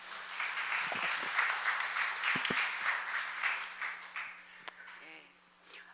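Audience members at an international forum session clap to welcome a speaker to the stage, a soft, moderately distant patter of applause that gradually thins out and fades near the end.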